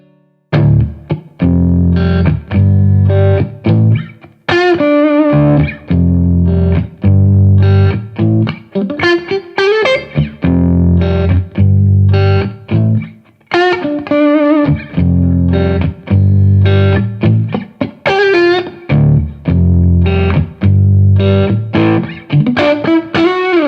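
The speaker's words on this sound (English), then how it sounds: "Boutique is an original amp design called Aristocrat, which is inspired by iconic hand-wired tones" An electric guitar plays through a Boutique Aristocrat solid state amp model inspired by hand-wired tones, giving a loud, continuous run of chords and melodic lines with a slightly driven, effected tone.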